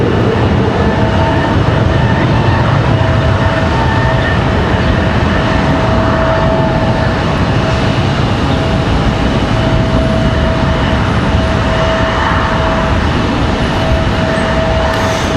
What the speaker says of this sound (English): This is American Airlines 1665 coming in at us from Las Vegas.